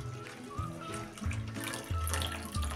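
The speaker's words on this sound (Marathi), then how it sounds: "त्यामध्ये आता हे गरम पाणी टाकून घेऊया।" Hot water is poured into a bowl of soaked millet (bajra) for khichdi, a close, steady splashing stream with gurgling surges as the bowl fills.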